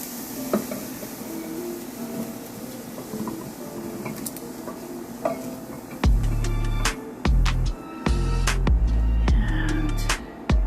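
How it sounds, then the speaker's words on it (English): Raw banana fry (Vazhakkai) being stirred and scraped from the pan into a serving bowl, with soft frying sizzle at first, then a run of loud, close spoon clanks and scrapes against the cookware. "Going to transfer it to the serving bowl."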